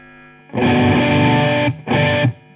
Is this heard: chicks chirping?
no